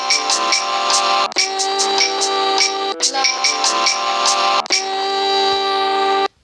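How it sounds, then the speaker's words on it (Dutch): Two chords alternate in a row over a bass line and a drum part, built in music software; bright sustained synth tones with regular percussive hits play steadily and loud throughout, ending abruptly. "Dus nu hebben we twee akkoorden op een rijtje met een baslijn en een drumpartij."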